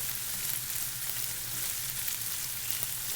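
Garlic and onions frying in a pan along with smoked salmon for a pasta sauce, giving a steady, close sizzle with a low hum beneath and no talking.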